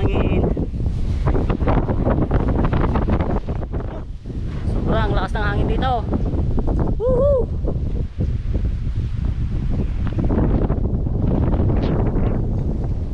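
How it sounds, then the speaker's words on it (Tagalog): Strong wind roars steadily against the microphone, with voices calling out now and then over the constant rush. "Lamig sa lakas ng hangin."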